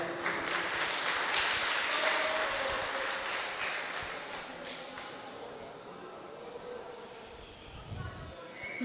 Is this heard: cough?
no